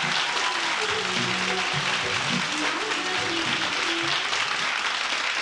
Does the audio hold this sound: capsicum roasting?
no